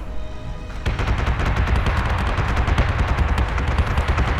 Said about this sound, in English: nice torpedo hit on my Manticore